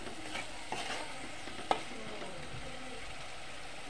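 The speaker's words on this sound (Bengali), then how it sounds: "এখন আমি টমেটোগুলি দিয়ে দেবো, দিয়ে আবার ভালোভাবে নাড়াচাড়া করবো।" Tomatoes frying in oil in a pan for a poa fish curry with curry leaves, stirred steadily, giving a constant close sizzle with a few sharp spoon scrapes against the pan.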